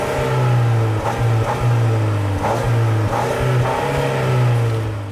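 A 2018 Volvo XC40 T5 AWD turbocharged engine revving repeatedly, loud rising and falling engine note with several distinct throttle blips heard close up.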